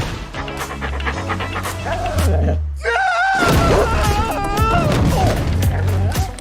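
A large dog pants and huffs loudly amid thumps and a crash, with lively whining, yelping sounds over a busy, noisy scene.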